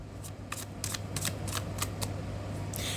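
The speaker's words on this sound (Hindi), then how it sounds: "Last shuffle." Tarot cards being shuffled by hand, a quick run of crisp riffling flutters over about three seconds, close and fairly quiet against a low steady hum.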